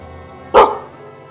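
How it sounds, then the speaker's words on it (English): A single dog gives one short, sharp bark at a funeral, close and loud against a quiet background with a low hum. "The dog barks alongside the pallbearers."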